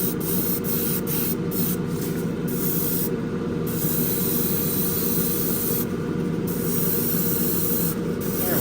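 Clear coat hisses steadily from a spray can or airbrush onto the firewall and hood of an AMT 1967 Impala model car, a close, continuous spray with brief breaks in the hiss.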